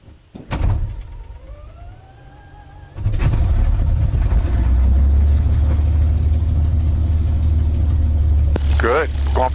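Hall Crazy Horse 2 engine cranks after priming and catches at about three seconds, then settles into a loud, rough, steady idle that sounds as if it wants to stall, with a brief mechanical whine and voices nearby.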